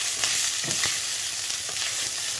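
Chicken crackles and sizzles steadily in hot oil during a stir fry, with scraping stirs of a utensil against the pan.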